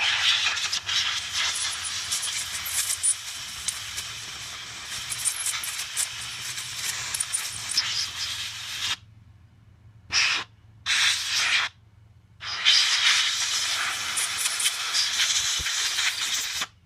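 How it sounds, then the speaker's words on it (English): Compressed air blasts steadily onto a Dolmar chainsaw carburetor during cleaning, a loud close broadband hiss that runs continuously, then breaks into a few short on-off spurts before resuming, with no talking. "The compressed air."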